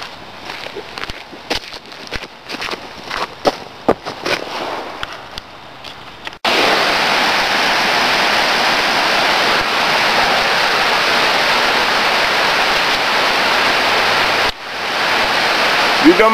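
A waterfall roars as a loud, steady broadband rush that fills the scene after a quieter opening with scattered clicks and handling noise, briefly dipping before resuming.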